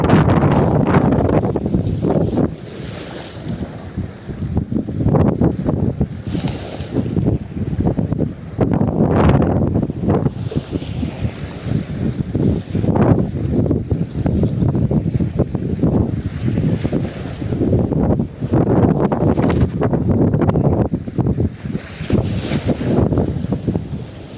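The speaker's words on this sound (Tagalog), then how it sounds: "Ang hangin." Strong gusts of wind buffeting the microphone in surging bursts at a river spot with buoys, with a low roar and rough rumble throughout and no voices.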